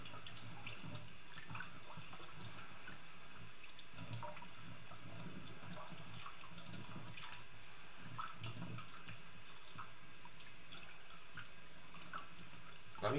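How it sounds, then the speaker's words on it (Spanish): Water pours steadily from a tap into a sausage casing to turn it inside out during homemade salchichón making, a continuous splashing flow with faint voices underneath. "cojo así y al revés le dejo caer agua"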